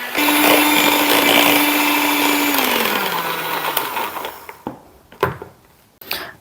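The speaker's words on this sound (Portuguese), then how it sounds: "E aí a gente bate com a batedeira." An electric mixer whips chantilly-style cream with powdered milk for a gluten-free birthday cake, a loud steady whine that drops in pitch, then fades into short bursts and clatter as it stops.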